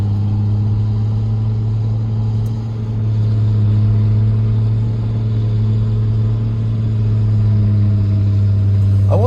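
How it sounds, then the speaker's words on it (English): A snow blower in the Big Bear valley in California throws snow into a truck, a loud, steady engine drone with a constant low hum that holds for several seconds. "Look, guys, it's blowing all the snow into that truck."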